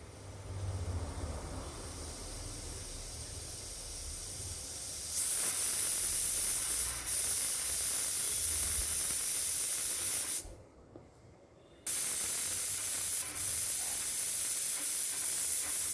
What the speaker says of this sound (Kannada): ಮತ್ತೆ ಒಂದು 3-4 ವಿಷಲ್ ಕೂಗಿಸ್ಕೊಳ್ಳಿ.